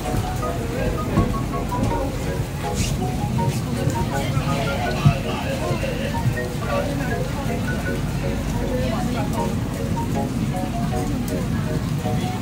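Steady rain patters around a moving observation wheel in Hong Kong, a dense, continuous hiss at moderate loudness with no clear breaks throughout.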